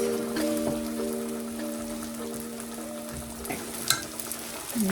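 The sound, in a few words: thinly sliced beef being mixed into sauce in a pan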